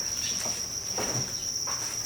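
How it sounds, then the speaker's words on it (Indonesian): Crickets on a cricket-breeding farm keep up a steady, dense high-pitched chirring, constant and loud throughout, with soft indistinct background rustles underneath. "Makanya saya ternak jangkrik."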